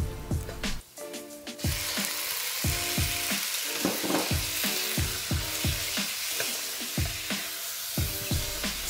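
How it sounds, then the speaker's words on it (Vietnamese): Pork and shiitake mushrooms stir-fry with garlic in hot oil in a pan, a steady close sizzle with regular scraping, clacking strokes of a utensil about twice a second throughout. "Cho 1 muỗng canh dầu, 1 muỗng canh tỏi bầm, phi vàng, xào thịt và nấm đông cô."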